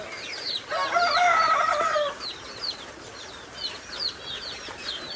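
Chickens cluck and a rooster crows loudly in a short burst near the start, then softer scattered clucks continue across a farmyard.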